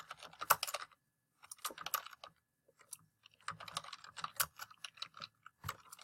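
Rapid bursts of clicking keystrokes on a computer keyboard while typing text into the vi editor, quiet and close, in short runs separated by brief pauses.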